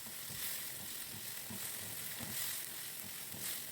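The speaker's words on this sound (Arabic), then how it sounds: "هفضل اشوح فيه كده كويس قوي، وهنزل عليه بمعلقه صغيره من الثوم بس تكون مليانه كويس، وهفضل اشوح فيهم برضو كويس" Sausage and garlic sizzle steadily in a hot pan while being stirred, a soft, even frying hiss with faint scraping pulses and no talking.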